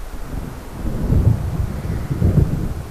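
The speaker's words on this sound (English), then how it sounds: "It seems there's a storm coming." Thunder from a coming storm in the Alan Wake video game rolls in as deep, heavy rumbles that swell twice over steady low ambience, with no voices.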